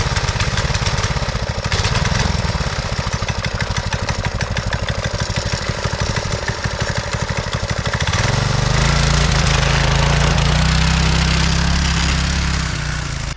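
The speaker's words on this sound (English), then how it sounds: "The heart of this machine is a 212 Predator engine that is then connected to a torque converter" A Predator 212 engine runs on a homemade tracked mini bike built as a backyard snowmobile. The loud, close, steady chugging is rapid at first, then settles into a lower, smoother drone, with no voices.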